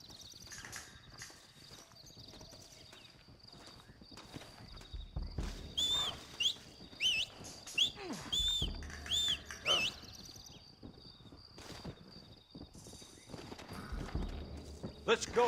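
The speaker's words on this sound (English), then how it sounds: "Looks like Carlos left us some horses." Horse hooves clip-clop in an uneven walking rhythm in Red Dead Redemption, mixed with game sound effects and high chirps, with voices talking briefly.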